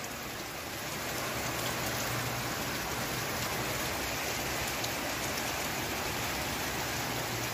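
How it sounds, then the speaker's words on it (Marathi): Heavy rain falling outside a house makes a steady, dense hiss that holds unchanged throughout, with no voices. "बाहेर पाऊस खूप मस्त पडतोय बघा."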